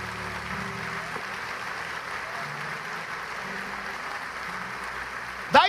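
A church congregation applauds during a sermon, a steady, fairly soft wash of clapping that holds for several seconds before a brief louder burst at the very end.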